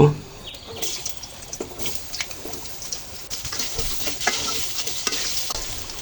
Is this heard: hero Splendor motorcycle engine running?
no